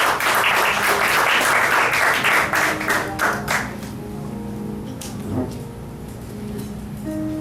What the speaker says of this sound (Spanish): Dale un aplauso a querido.